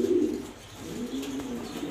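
A Super Mili pigeon pair, male and hen, gives low rolling coos, one strong call at the start followed by a softer drawn-out coo, close but fairly quiet.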